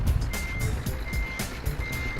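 Reversing beeps from a Scania T truck in Euro Truck Simulator 2: a regular series of high electronic beeps repeating about every half second over a low engine rumble.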